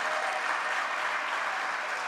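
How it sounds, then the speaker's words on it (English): Steady applause from a crowd at a Harlem rally for paid family leave, continuous and moderately distant, with no voices over it. "Let's give her a round of applause."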